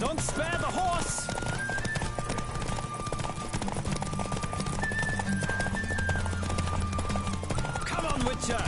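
A horse galloping flat out during a race in The Witcher 3, rapid rhythmic hoofbeats running continuously under game music and other in-game sounds, with a whinny near the start.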